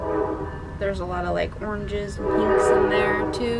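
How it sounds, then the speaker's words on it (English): A train passing close to a house sounds a long, sustained horn with layered tones that rises near the end, while someone talks over it the whole time. "We moved and now we live by a train"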